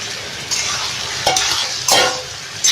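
Potatoes and tomatoes fry in a pan, sizzling loudly and constantly while a utensil stirs them in a few distinct scraping sweeps, close up with no voices.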